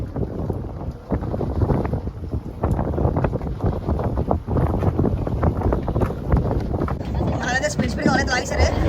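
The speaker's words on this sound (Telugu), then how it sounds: "గాలి కూడా ఎక్కువ ఉంది." Strong wind buffets the microphone aboard a fishing boat at sea, a constant rough roar under continuous talking.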